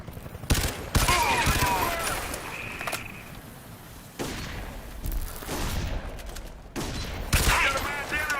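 Bursts of automatic MP gunfire in Crysis 3, with several sharp volleys spread across the stretch and game sounds and faint voices between them.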